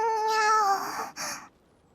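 A human voice imitates a cat's meow, a drawn-out wavering mew followed by a shorter second one, close and fairly loud.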